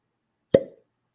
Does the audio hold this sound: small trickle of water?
no